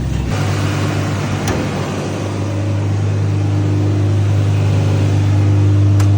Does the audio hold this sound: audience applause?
no